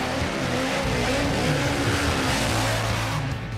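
A high-acceleration drag vehicle launches at full throttle, its engine a loud, steady, close roar held for several seconds before easing slightly at the end.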